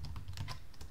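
Quick run of keystrokes on a computer keyboard while entering an SCP command in a Linux terminal, close and steady, with no talking over it.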